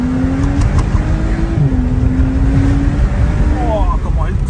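A car engine revs and pulls hard, loud and close, its pitch climbing in steady rises while someone talks over it in French.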